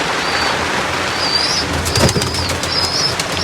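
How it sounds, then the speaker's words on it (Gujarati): Sarangpuri pigeons in the rain, with soft cooing and a brief flurry of wing flaps heard over a steady patter of rainfall. "સારંગપુરી ઉપર બેઠો વરસાદમાં આવી ગયો."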